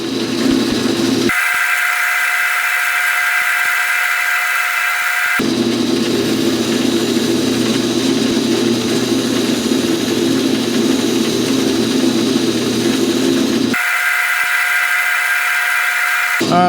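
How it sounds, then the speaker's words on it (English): A buffing wheel spun by a drill press whirs at a steady, loud pitch while polishing a Mercedes-Benz grill emblem, with a low motor drone underneath and abrupt shifts in tone. "Got a little buffing wheel on the drill press."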